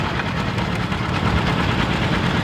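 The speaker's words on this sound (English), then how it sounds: "John Deere 1010, it's 1963 model." A 1963 John Deere 1010 tractor idles in a parade, giving a steady, continuous low engine rumble that stays close and even throughout, with no voices over it.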